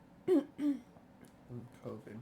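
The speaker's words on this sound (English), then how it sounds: "coughs" A couple of short, soft throat-clearing coughs close by, followed by a few quiet voiced sounds.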